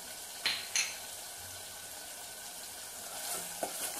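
A spatula stirs tomatoes and curry leaves frying in a pan for Chettinad thick dal, with a faint, steady sizzle and a few soft scrapes and clinks against the pan.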